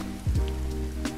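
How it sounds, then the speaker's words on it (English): Rain patters steadily in the survival horror game The Forest, a soft continuous hiss with low in-game tones and sweeps over it. "Oh no, it's raining."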